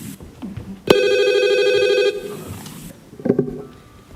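A telephone rings once in a staged Christmas Eve play, a loud bright electric bell tone lasting about a second, followed by quieter stage sounds and a short voice.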